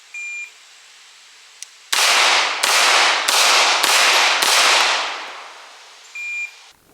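Five rapid handgun shots in a low-light handgun qualifier drill, fired from compressed ready in one fast string of loud, close cracks about half a second apart, each ringing into the next, with electronic timer beeps before and after.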